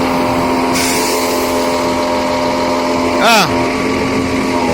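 A hydraulic system on running machinery makes an abnormal noise: a steady, loud droning hum with a whining tone, and a brief voice exclamation partway through.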